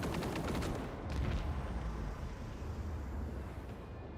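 Interceptor squad gunfire in a Warhammer 40K video game, a dense rattle of rapid shots over a rumbling battle bed, quieter and mid-distance, fading into a sustained low roar.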